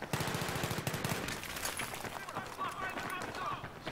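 Rapid shotgun blasts from a DAO loaded with flechette rounds in Battlefield 3 crack out close and repeatedly through a busy firefight, with steady battle noise under the shots.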